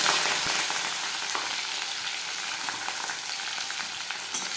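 Chopped onions fry in a pan with a steady, close sizzle and occasional soft stirring scrapes, with no talking.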